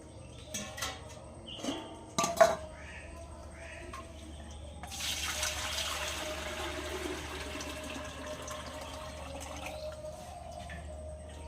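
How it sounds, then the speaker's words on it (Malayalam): Water is poured into a cooking pot for rice gruel, a steady splashing rush that starts midway after a few sharp clanks and continues to the end. "ഇനി കഞ്ഞിക്കുള്ള വെള്ളം ഇടുന്നത്"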